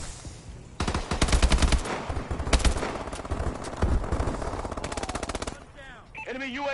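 Gunfire in a Call of Duty video game match, dense automatic bursts of rapid shots in several volleys, loud and close, fading out near the end as a game voice cue takes over.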